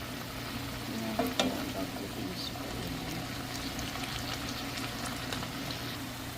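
Green beans cooking with sautéed ground meat in a pan, a steady, quiet sizzle and bubbling with a few faint clinks, continuous and close.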